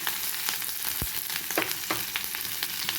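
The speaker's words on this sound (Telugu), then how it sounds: "ఇప్పుడు ఇందులో ఇలా కట్ చేసి పెట్టినట్టు క్యాప్సికమ్ వేసేసుకుందాం" Chopped capsicum fries in oil in a pan with a loud, steady sizzle broken by sharper spits and crackles as it is stirred. No voices are heard.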